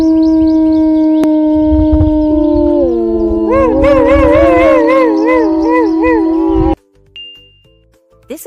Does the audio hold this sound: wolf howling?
yes